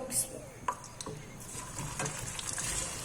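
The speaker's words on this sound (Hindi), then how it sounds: "अब इनको फ्राई करते हैं हम आलू को" Boiled potatoes fry in very hot oil in a kadai over a high flame, a soft, steady sizzle broken by a few light clinks and scrapes of stirring, fairly quiet and close.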